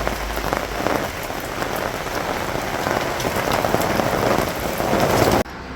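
Steady rain falls in Montreux, Switzerland, under low clouds, a dense, even hiss of drops pattering on surfaces close by with no voices, holding constant throughout before briefly easing at the end.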